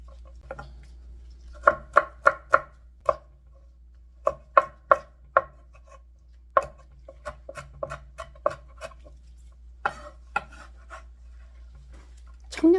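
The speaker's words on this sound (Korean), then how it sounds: "쫑쫑 썰어서 매콤하라고 넣을 거예요" A knife finely chops deseeded chili peppers on a board for a Korean braised pollock dish: bursts of quick, crisp taps alternate with short pauses, close and clear in a quiet room.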